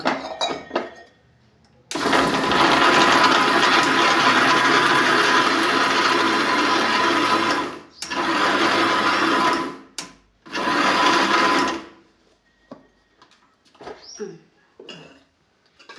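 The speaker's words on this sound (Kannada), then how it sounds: "ಈಗ ಮಿಕ್ಸಿಗೆ ಹಾಕೊತೀನಿ ಈಗ" An electric kitchen mixer grinder (mixie) grinding broken pieces of roti, a loud steady whirring roar running for several seconds, cutting out briefly, then two shorter bursts, followed by faint clinks of the jar.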